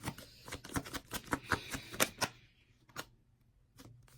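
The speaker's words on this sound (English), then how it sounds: "I'm getting ready to shuffle again." A tarot card deck being shuffled by hand in a quiet room, giving a quick run of crisp card riffles and taps that fade out, then a few scattered soft flicks near the end, close and fairly quiet.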